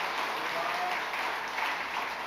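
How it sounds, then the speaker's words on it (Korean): A church congregation claps in thanks for a missionary after her sermon, a dense, steady wash of many hands applauding throughout at an even level. "감사의 박수 한번 다시 보내드리겠습니다"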